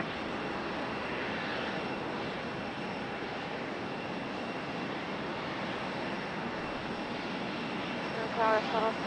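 A Delta airliner arriving at Raleigh-Durham airport, its engines a steady broadband roar that holds at a moderate level throughout, with wind noise mixed in and a short brighter sound near the end.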